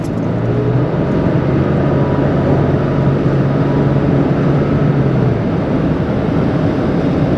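A Toyota Tacoma pickup truck accelerates with a loud, continuous engine drone and road rumble, a low tone climbing briefly before blending into steady wind and tire noise.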